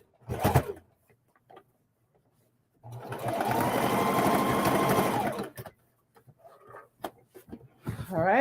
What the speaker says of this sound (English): So when I come close enough, I would do a back stitch.